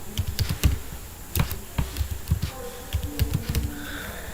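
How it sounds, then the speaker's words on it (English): Password being typed on a computer keyboard, a quick run of close, crisp key clicks in uneven bursts with brief pauses, no talking. "For example, I am just entering the password"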